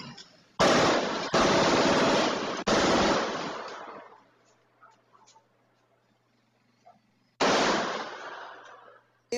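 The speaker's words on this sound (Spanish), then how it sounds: "recibió una ráfaga de 36 disparos en contra de su vivienda." A rapid burst of gunshots fired at a house in the Santiago Apóstol settlement in Comas: two loud clusters of sharp, overlapping cracks, the first lasting a few seconds and the second returning after a quiet gap.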